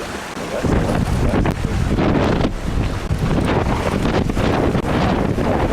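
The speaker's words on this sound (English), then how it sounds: "That's the wind." Strong wind buffets the microphone aboard a sailboat on Hickling Broad, a loud, continuous roar with gusty surges throughout and no speech.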